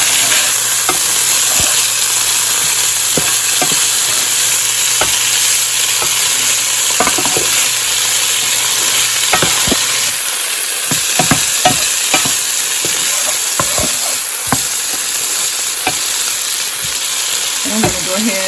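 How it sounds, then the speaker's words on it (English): Home-canned black beans, drained and rinsed, drop into a pan of sauteing garlic and onion, giving a loud steady sizzle close up with frequent scraping stirs throughout and no talk. "I've got my garlic and onion sauteing. I'm going to go ahead and drop my beans in here."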